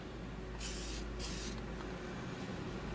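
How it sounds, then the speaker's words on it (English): Two quick hissing bursts of aerosol cleaner sprayed inside the receiver of a Stevens 320 shotgun, close and fairly quiet, over a steady background hum. "I'm going to set that aside and spray inside the receiver"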